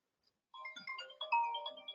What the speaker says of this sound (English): Sorry, there's a phone call, so I had to be stopped.